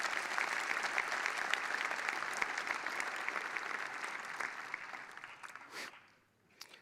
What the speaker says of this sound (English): giving a round of applause for all the help the contributors do